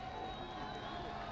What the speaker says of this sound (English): the crowd is much electric here at the Amus College Stadium